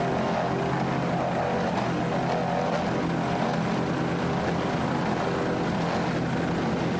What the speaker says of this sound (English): Daytona Performance Marine 38-foot fountain.